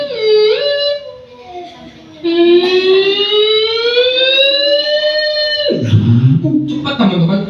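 An ambulance siren wails loudly and close, its tone rising and holding in long sweeps before cutting off into a rougher burst of noise.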